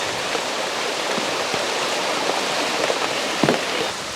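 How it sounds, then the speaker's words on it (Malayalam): Rainwater rushes and rises around a washing stone during steady rain, a continuous broadband wash with a few sharper splashes standing out near the end. "മഴ പെയ്തിട്ട് അത്യാവശ്യം വെള്ളം കയറിയിട്ടുണ്ട് കേട്ടോ"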